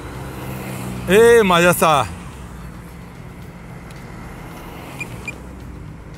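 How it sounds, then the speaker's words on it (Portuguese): Car traffic passes along a city avenue under construction at night, a steady low road rumble that carries on after a short burst of speech near the start. "o som que vocês vão ouvir, só o som dos carros"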